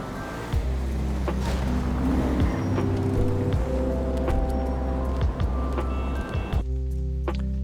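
A Gallivanter Baller SUV engine in a GTA video game rumbles low and loud, its pitch climbing in repeated stepped surges like gear changes, then dropping to a quieter idle at the end.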